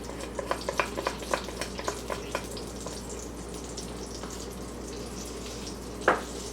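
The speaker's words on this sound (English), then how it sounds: "to a hot pan, we are going to add some seasoned butter" Seasoned butter sizzles in a hot pan for a keto Asiago frittata, a soft, continuous crackle with small spitting pops early on and one louder clatter near the end.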